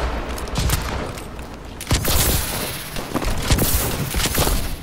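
Sustained volleys of gunshots in a Call of Duty Advanced Warfare mission, steady rattling fire with several sharper, louder cracks and thuds punching through at intervals.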